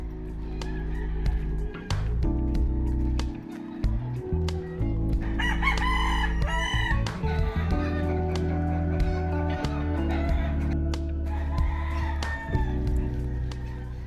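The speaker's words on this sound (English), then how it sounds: "if you go for an early walk, you will hear the cockerels everywhere." Roosters crowing around Malapascua, several long cock-a-doodle-doo calls repeating over a steady background hum of music and ambient noise, some near and some farther off, with no talking.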